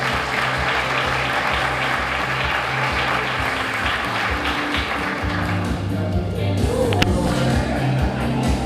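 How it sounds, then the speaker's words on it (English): An audience at a Teacher of the Year event claps steadily over background music, the applause thinning out partway through as the music continues. "Let's give him a great big round of applause"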